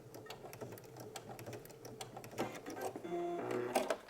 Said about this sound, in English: I'm going to stop right after I sew over the edge of the seam allowance